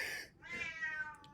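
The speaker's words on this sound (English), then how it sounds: "that's my cat" A house cat meows once with a long, rising then falling cry, fairly close and clear against a quiet room.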